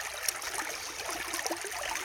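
Shallow water of Anderson Creek in Warrandyte flows and trickles over a clay creek bed, a steady, close babbling wash with small splashes, continuous and unaccompanied by voices.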